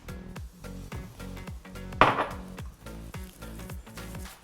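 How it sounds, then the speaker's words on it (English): A spoon folds agar into an oat and pulse patty mix in a bowl, making a quiet, even rhythm of soft knocks and scrapes with one sharper clink midway. "So that just gets folded in at the very end."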